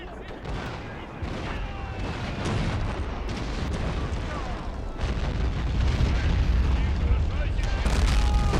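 Artillery fire in a Napoleonic war video game set at the Battle of Borodino: a dense, continuous roar of booming cannon and gunfire that builds slightly louder toward the end, with a voice talking faintly underneath.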